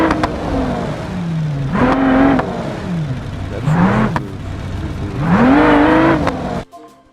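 Ferrari engine in the BeamNG driving game, loud and close, rising and falling through repeated revving sweeps as the car accelerates, with a brief cutoff near the end.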